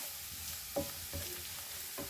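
Meat sizzling steadily in a hot pan while a utensil stirs it, with a few soft scraping strokes against the pan.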